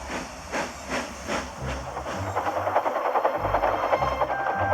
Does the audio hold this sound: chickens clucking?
no